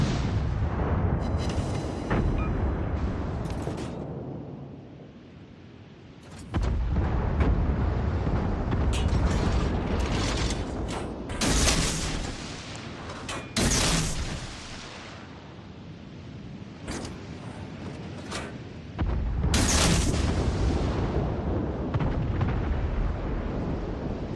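Naval battle sounds in World of Warships Legends: heavy booming blasts, rumbling eruptions and creaking metal as a ship is destroyed, arriving in several loud surges with brief lulls, no talk.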